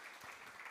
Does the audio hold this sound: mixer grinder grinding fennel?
no